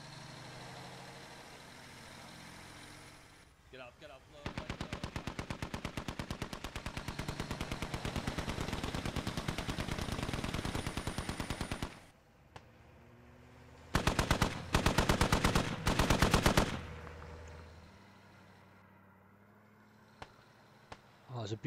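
Machine gun fire from a BTR armored vehicle in a video game, a long sustained rapid burst followed by a pause and then a second, louder burst, with an idling engine rumbling in the pauses.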